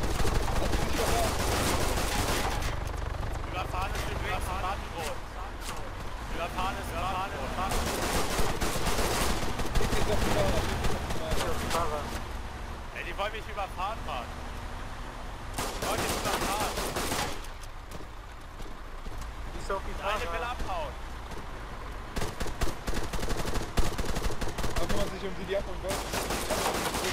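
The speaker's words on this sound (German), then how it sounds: "Schieß auf die Reifen" Gunfire in the video game Arma 3 aimed at vehicle tires, bursts of dense automatic shooting alternating with stretches of people talking over radio, loud and sustained throughout.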